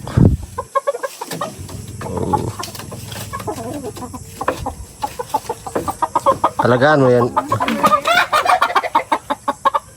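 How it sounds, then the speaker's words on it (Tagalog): Chickens clucking and squawking up close, with a rooster-like call, while people talk and exclaim nearby. "Binigyan siya ng manok."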